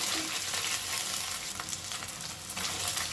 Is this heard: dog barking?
no